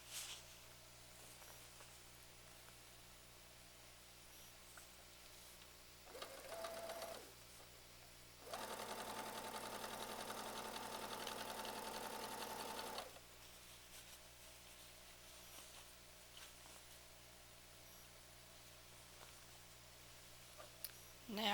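Sewing machine running straight seams along the border of a quilt, a steady whirring burst of several seconds with shorter stitching runs before it, close and moderately loud in a quiet room.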